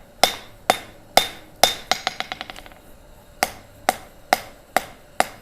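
A square-face hammer forges metal on an anvil in a gas forge setting, with bright ringing blows at a steady pace, a fast bouncing run of lighter taps midway, then more evenly spaced strikes, close and loud.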